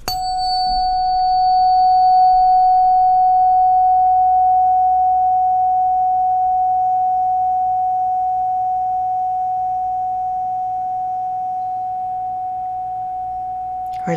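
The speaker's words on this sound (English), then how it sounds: "So I'm going to strike the tuning fork for the throat chakra" A tuning fork for the throat chakra, struck once, rings with a steady pure tone that lingers close and clear for the full length, slowly fading with faint room hiss beneath.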